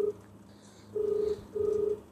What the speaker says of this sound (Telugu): ఫోన్ ఎత్తట్లేదు ఏందైనా.